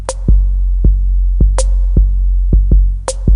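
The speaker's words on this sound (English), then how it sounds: "I'll add the snares" Crisp snare hits crack every second and a half over a pattern of booming low 808 kicks, forming a loud, punchy drum loop.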